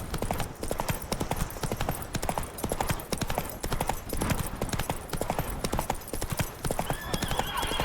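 A horse gallops in The Witcher 3: Wild Hunt, with a fast, steady rhythm of hooves thudding close and loud, a neigh or whinny mixed in, and no talking.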